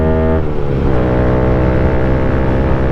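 Backed-up city traffic leaving town as school lets out, a close, loud engine drone with a shifting tone and a brief rise in pitch, steady for a few seconds with no talking.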